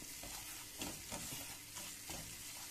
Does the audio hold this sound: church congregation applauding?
no